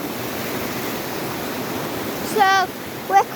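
River water rushes steadily near a waterfall in Sedbergh, a constant broadband roar heard close, with a brief voice cutting in near the end.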